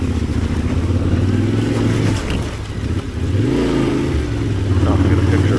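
Yamaha Tenere 700 motorcycle with its stock exhaust on ATV trails, a steady mid-pitched engine drone that rises and falls as the throttle opens and eases, close and loud throughout.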